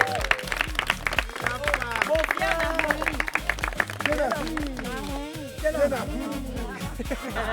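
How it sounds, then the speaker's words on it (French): Applause from a group mixes with overlapping voices and chatter, steady and moderately loud throughout. "On peut applaudir mon Pierre."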